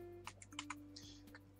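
Values are typed on a computer keyboard in Photoshop, heard as a short run of faint, quiet key clicks over a soft background hum.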